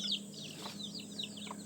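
A mother hen clucks softly on a farm while her baby chicks peep in high, scattered chirps around her, all fairly faint and unaccompanied by voices.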